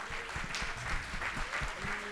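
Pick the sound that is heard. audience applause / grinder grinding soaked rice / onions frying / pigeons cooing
audience applause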